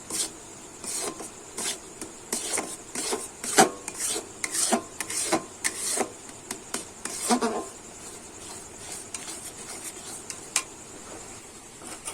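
A thick milk-powder sandesh mixture is stirred in a kadai, producing close, rhythmic scraping strokes of a spatula against the pan that slow slightly toward the end.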